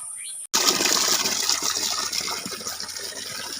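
Water runs from a tap at a home in Bengal, drawn for watering newly planted plants: a sudden steady gush that starts abruptly after a brief silence and flows on continuously, close and fairly loud.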